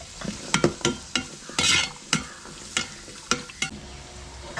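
Onions and shallots sautéing in a pan for Kerala-style kappa biryani: a rhythmic series of sharp spatula scrapes and stirring strokes over a soft sizzle, close and fairly loud, with no voices.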